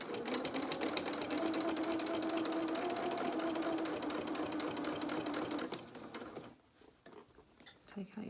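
Domestic sewing machine stitching through dungarees fabric, a steady fast needle rhythm running for nearly six seconds before stopping, followed by softer handling sounds of the cloth; a voice talks over part of it.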